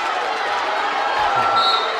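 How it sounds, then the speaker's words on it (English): A crowd at a high school wrestling match cheers and shouts in a gym, a steady mid-level roar with a few thumps and a sharp whistle near the end. "Well, the crowd's actually getting into it."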